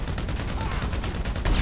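Rapid bursts of gunfire in GTA V during a Merryweather heist mission, dense and continuous with repeated sharp cracks, growing louder near the end.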